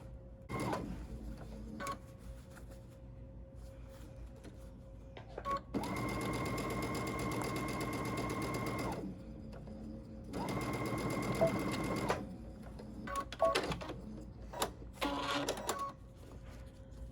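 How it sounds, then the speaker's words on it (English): A sewing machine stitches over a fold on a fabric face mask in two sustained whirring runs of about three and two seconds, separated by quieter pauses with small clicks and handling noises. "We're going to go ahead and just sew that over."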